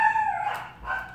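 Pet dogs bark and howl in the background of a room, a short, fairly faint burst of canine vocalizing with no one speaking.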